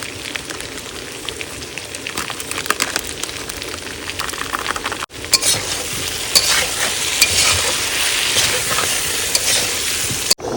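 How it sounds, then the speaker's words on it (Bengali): Curry gravy with green chili, ginger, salt and turmeric boils in a pan, giving a steady, close hiss of sizzling and bubbling that grows fuller midway, with stirring scrapes and no talk. "কিছুটা ঝোল কিন্তু ফুটে গেছে"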